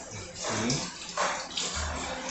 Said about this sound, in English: You want to go ahead and rinse it good.